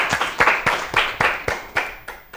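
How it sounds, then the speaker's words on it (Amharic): An audience at a children's quiz show breaks into a short burst of sharp hand clapping for a contestant, about ten distinct claps in an uneven rhythm, fairly close and moderately loud. "አጨብጭቡለት፣ በደንብ አጨብጭቡለት።"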